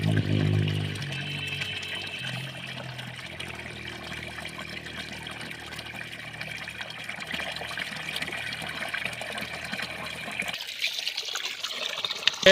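Cold tap water runs steadily into a sink while potatoes are washed, a continuous trickling stream heard alone that ends abruptly near the close.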